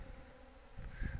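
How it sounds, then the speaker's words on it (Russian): Bees buzz and hum close by as they gather water seeping from under an upturned bucket on a sheet of plywood, a continuous insect drone that grows louder and busier toward the end. "хочу показать, как пчелы берут воду"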